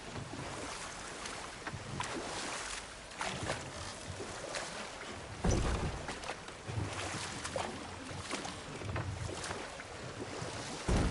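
Steady rushing water from a waterfall in God of War Ragnarok, a broad continuous roar with gusty swells, heard alone without talk.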